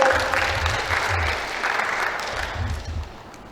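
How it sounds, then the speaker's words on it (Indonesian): Audience applause at an event welcoming a speaker onto stage, a dense steady clapping from a crowd that fills the clip and fades slightly toward the end, with no talking. "Kita berikan aplaus sekali lagi."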